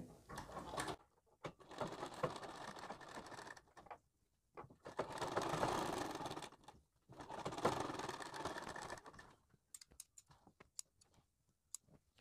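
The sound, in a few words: sewing machine stitching blouse neck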